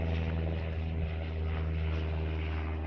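A small propeller airplane drones steadily overhead near an aerodrome, a continuous loud engine hum with low tonal bands that holds through the whole stretch without pause.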